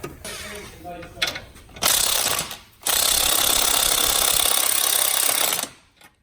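A ratchet working on an exhaust header bolt on a C7 Corvette gives a brief clicking, then long stretches of dense, loud mechanical rattling, with a few short pauses, close up.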